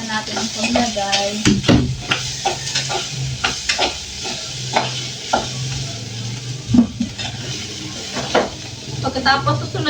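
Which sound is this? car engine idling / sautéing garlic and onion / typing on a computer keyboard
sautéing garlic and onion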